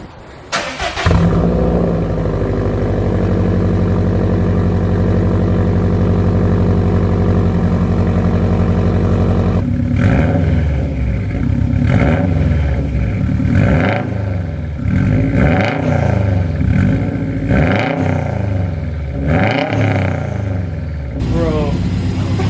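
A Subaru WRX STI fitted with a Rim speed downpipe and AWE track catback exhaust starts with a loud rumbling idle, then revs repeatedly in sharp, rising-and-falling blips close to the listener.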